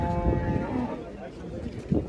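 A Sahiwal cow moos close by at a livestock and agriculture fair in Ganganagar, Rajasthan, a drawn-out low bellow with a second shorter call near the end over faint farmyard background.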